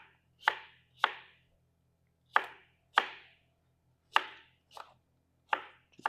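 A knife chops acorn squash into small dice on a cutting board, about eight crisp, separate thuds at an uneven pace in a quiet room.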